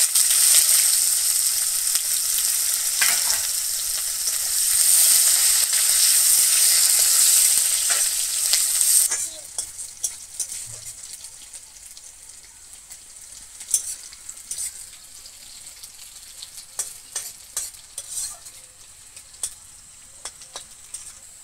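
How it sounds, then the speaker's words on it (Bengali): Chopped onions with whole cumin frying in oil: a bright, loud sizzle that drops off sharply partway through. Scattered spatula scrapes and taps on the pan follow, with no talking. "পেঁয়াজ কুচি ভালো করে ভেজে নিয়েছি।"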